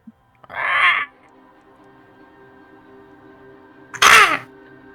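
Someone voices two harsh crow-like caws, separated by a few seconds of quiet hum, each a loud, rasping call close to the microphone; a human imitating a crow.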